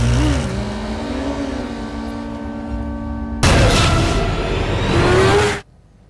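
In a film scene, a motorcycle engine hums with a low tone, then bursts into a loud revving roar for a couple of seconds before cutting off abruptly.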